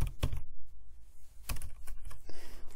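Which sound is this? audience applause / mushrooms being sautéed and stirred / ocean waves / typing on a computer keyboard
typing on a computer keyboard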